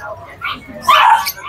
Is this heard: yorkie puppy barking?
yes